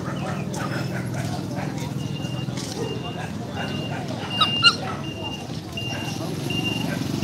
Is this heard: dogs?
yes